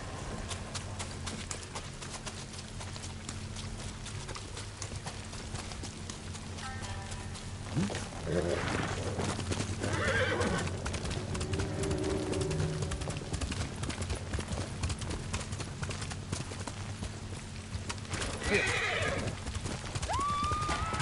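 A horse gallops with rhythmic hoofbeats and lets out several whinnies in the video game Ghost of Tsushima, while characters talk over the riding.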